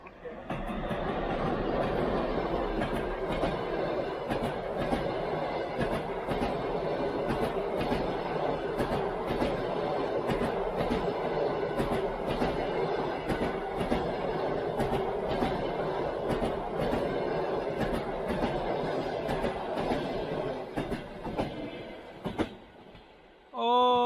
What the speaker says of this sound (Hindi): ओ यो गई ट्रेन।